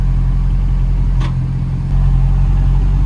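Maserati GranTurismo 4.2 exhaust with the valves open, a deep, steady idling rumble close by that swells slightly in loudness near the end, with no voices.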